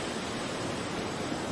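The Somdal waterfall in Tangkhul country, a steady broadband roar of rushing water that stays loud and constant throughout, with no voices.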